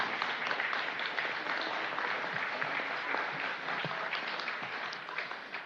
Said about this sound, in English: please join me in giving a round of applause to our City Clerk and her entire team